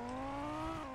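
A car in the game Vehicle Legends drives with a steady, even engine drone that stays close and constant for a second.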